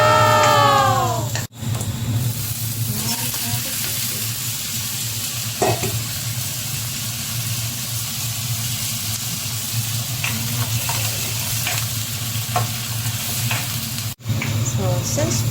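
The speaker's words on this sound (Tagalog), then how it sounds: "Gisahon akong sibuyas o onion." Onion sautéing in a hot pan for homemade carbonara, a steady, loud sizzle with scraping stir strokes and occasional clatters, no voice over it.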